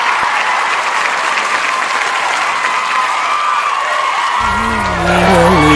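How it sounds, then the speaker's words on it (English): An audience welcomes a singer with loud, continuous clapping and a few cheers, holding steady throughout; near the end, music and a sustained tone begin under the applause. "now we invite our beloved sir to sing a song. Sir, welcome him."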